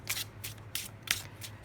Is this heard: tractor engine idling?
no